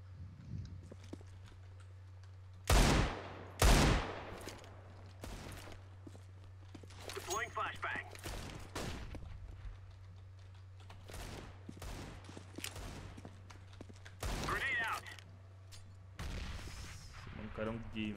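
Desert Eagle pistol shots in CS:GO, a handful of sharp separate blasts spread across the clip, two of them loud and close, mixed with footsteps and game noise while someone talks.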